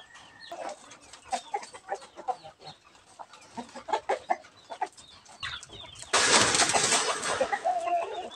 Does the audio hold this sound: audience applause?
no